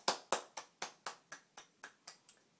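A lone pair of hands claps about ten times in a steady, even rhythm, each clap crisp and close, fading slightly toward the end in an otherwise quiet room.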